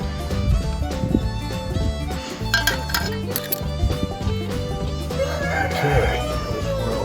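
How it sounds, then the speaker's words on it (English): Chickens cluck and a rooster crows amid a noisy barnyard, with music or background hum running underneath. "These chickens are loud."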